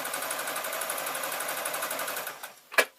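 A sewing machine stitches binding onto a tote bag reinforced with jelly roll strips, running in a steady close whirring rhythm for most of the stretch, then slowing and stopping, followed by a brief sharp click.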